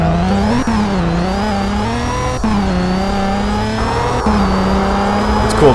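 A car drifting in Gmod Simfphys, a video game, with a loud, steady engine drone and rising and falling revs as the tires slide, close and continuous without speech.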